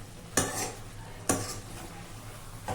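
Goat liver curry stirred in a pan: two distinct scraping strokes of a spoon against metal, each followed by a brief sizzle, set against a low steady cooking hiss with no talk.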